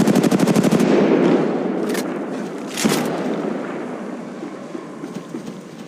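Rapid automatic gunfire from a firefight in the mobile battle royale game Apex Legends Mobile, a loud rattling burst followed by a few sharp single shots and impacts that trail off into a quieter, busy background.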